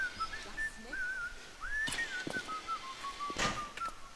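A BioShock game character whistles a wandering melodic tune, several sliding phrases with brief pauses, set against quiet in-game ambience and a couple of soft thuds.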